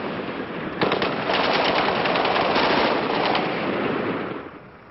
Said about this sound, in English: nearby soldiers opened fire